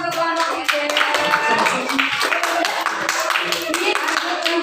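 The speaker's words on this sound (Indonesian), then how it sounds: "Tepuk tangan untuk kelompok 3." Classroom applause for a student group after a presentation, dense hand clapping that continues steadily at close range, with voices talking over it.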